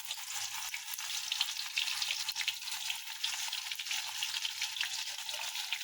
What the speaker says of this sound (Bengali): এবার আমি ফুলকপিকে ভেজে নিচ্ছি। কড়াই এখানে তেলটা বসিয়ে দিয়েছি, গরম হয়ে গেছে।